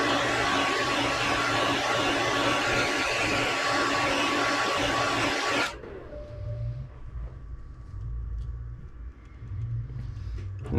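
A heat gun sets the paint on a fishing lure, blowing loud and steady with a broad roar, then cuts off abruptly midway, leaving a quieter low hum and faint room sounds.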